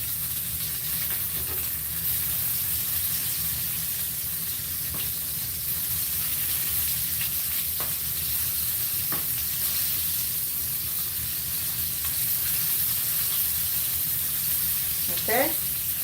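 Fish fries in its own oil in a pan, giving a steady, even sizzle and hiss throughout with a few faint clicks and a brief chirp near the end, and no talk.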